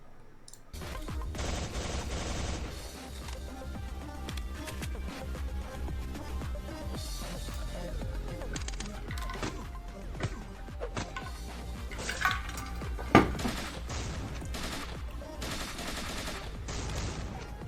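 Gunfire in the Madness Combat animation: dense, continuous bursts of rapid shots and fusillades over a steady mix of music and effects, with a few louder cracks standing out near the end.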